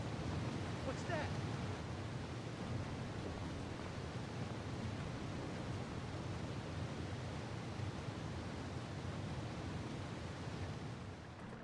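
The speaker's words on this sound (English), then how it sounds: "I can hear water." Steady wash of water in Raw Danger! on PS2, a broad rushing noise like flowing floodwater that holds evenly for the whole stretch, fairly soft and without breaks.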